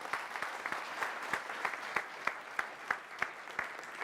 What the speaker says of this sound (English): Let's give him a round of applause for this.